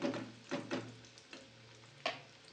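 Onion frying in a pan for a spicy chicken sukka, a faint low sizzle under a few distinct scraping stir strokes from a spatula, quiet and close.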